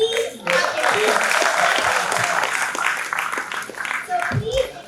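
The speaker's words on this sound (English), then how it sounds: "Please clap your hands." An audience at a school of engineering talk claps hands together, a moderately loud mixed patter that rises quickly and carries on under a few scattered voices before tapering.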